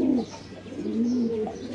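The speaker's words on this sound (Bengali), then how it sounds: "এই যে নর ডাক দিতেছে, মাদিটা মিল দিতেছে।" Racing pigeons, a male and a female, cooing close by in a loft: a soft, low, throaty coo rises and swells in quick succession with a brief answering call, and no talking.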